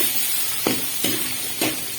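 Chopped big onions sautéing in a pan, a steady sizzle broken by three soft stirring swishes at a regular pace, near and alone.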